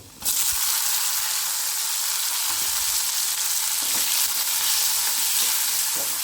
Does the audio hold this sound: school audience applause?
no